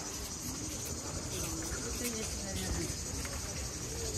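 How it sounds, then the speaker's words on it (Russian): Cicadas buzzing in a constant high-pitched drone in Sudak, Crimea, with faint low voices murmuring underneath. "Слышите цикады?"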